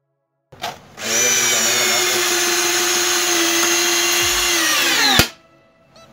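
A power drill drives large screws through a beam into a workshop wall, whining loudly and steadily for about four seconds before a sharp crack and a quick stop.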